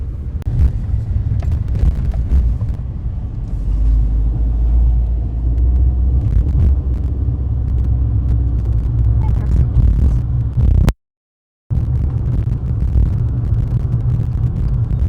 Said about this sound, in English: So now we are driving out of the registration area.